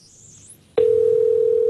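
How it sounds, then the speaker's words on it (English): An outgoing phone call rings, with a steady, loud tone that starts abruptly after a faint, high electronic whine and holds without a break. "Phone's ringing, dude."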